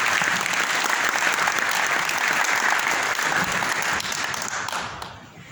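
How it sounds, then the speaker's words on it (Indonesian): Audience applause at a talk on physical culture, dense steady clapping filling the room for about five seconds before tapering off at the end. "Terus boleh kasih tepuk tangan kembali untuk Mas Ade"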